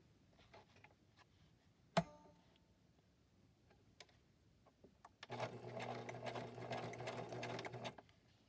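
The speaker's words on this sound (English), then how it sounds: "I'm going to go ahead and stitch that on, and I'm going to put it into zigzag again." A sewing machine runs a zigzag stitch on a wallpaper library pocket, a steady mechanical whirr lasting about three seconds after a sharp click and a few quiet ticks.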